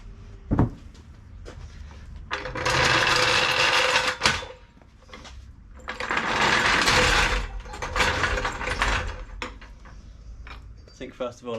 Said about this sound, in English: I'll try and loosen the tank straps off